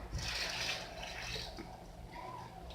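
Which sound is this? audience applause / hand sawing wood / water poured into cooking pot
water poured into cooking pot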